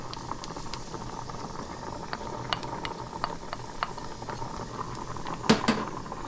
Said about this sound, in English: we're going to start sauteing our veggies, or sauteing our aromatics